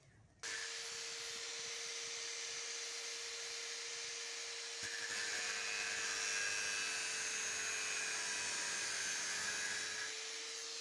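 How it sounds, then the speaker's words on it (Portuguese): A power saw cuts PVC ceiling trim at a 45-degree angle, a loud, steady high whine that starts abruptly, runs for about ten seconds with a brief shift midway, then stops. "e já passo a serra aqui, ó, seguindo o ângulo de 45 graus"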